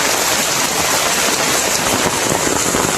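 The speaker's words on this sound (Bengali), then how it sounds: "কি লেভেলের বৃষ্টি ভাই" Sudden torrential downpour in a village roars as a loud, unbroken wash of noise, close by and likely drumming on an umbrella, with no talk.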